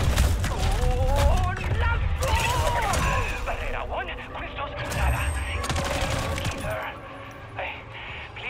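Call of Duty Modern Warfare 3 zombies gameplay with steady gunfire and explosive blasts rumbling throughout, dense and loud, while someone talks over the combat.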